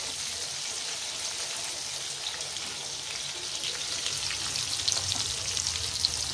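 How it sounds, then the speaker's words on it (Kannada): Eggplant (brinjal) sizzles and crackles steadily in a frying pan, a dense continuous hiss with popping spatters that grows slightly louder toward the end, with no voices. "ನೋಡಿ ಬದನೆಕಾಯಿ ಫ್ರೈ ಆಗ್ತಾ ಇದೆ ನೋಡಿ"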